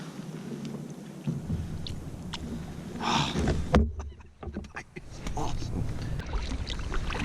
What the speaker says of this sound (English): Well, I'm paddling upstream.